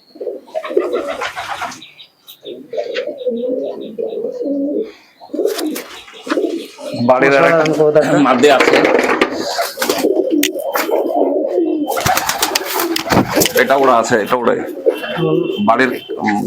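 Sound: pigeons cooing in a pigeon loft

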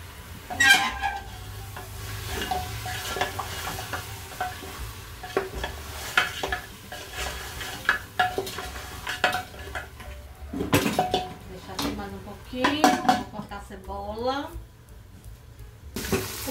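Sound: onion frying in a pot with beef ribs

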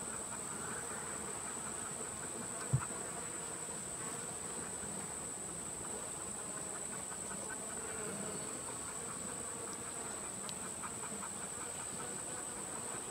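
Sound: honey bees buzzing at an open hive

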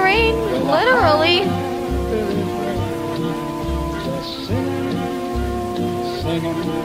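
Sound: rain effect on theme park ride

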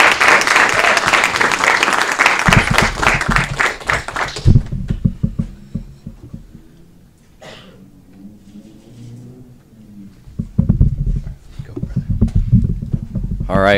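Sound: round of applause for Al Davenport

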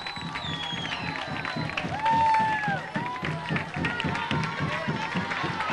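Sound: crowd applauding and cheering passenger train arrival

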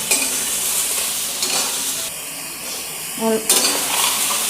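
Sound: stirring turmeric masala in pan for hilsa fish curry

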